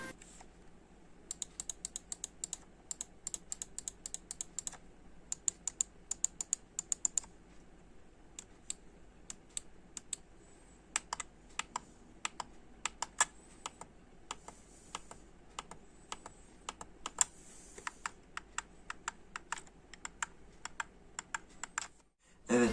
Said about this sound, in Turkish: Az önce mouse'un ses testini dinlediniz.